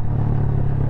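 A car climbing the dusty, slippery road from Islamabad to Murree via Pir Sohawa, its mid-pitched engine droning steadily and loudly with a faint clatter as the driver moves up into fourth gear.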